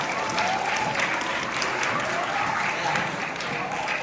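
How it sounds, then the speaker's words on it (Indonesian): Audience applause at an Isra Mi'raj school gathering, a continuous wash of many hands clapping at moderate level, with voices mixed in. "Tepuk tangan dulu dong"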